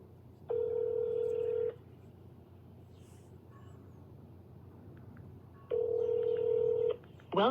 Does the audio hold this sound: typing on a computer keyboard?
no